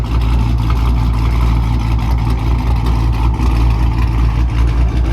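A supercharged RT car idles loud and close at a gas station, its engine running with a steady heavy low rumble and rapid uneven chop, heard alone without talk.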